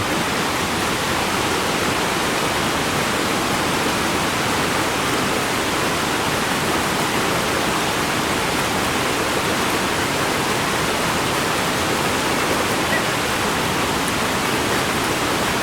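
A waterfall at Iguazu National Park, a dense, even roar of falling water that holds steady and loud throughout with no talk.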